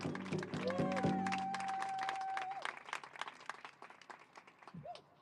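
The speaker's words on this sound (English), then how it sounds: "let's give her a big round of applause" An indoor audience at a Minnesota community gathering breaks into dense, sustained clapping that gradually thins into scattered claps. A long whistle-like tone rises over the start.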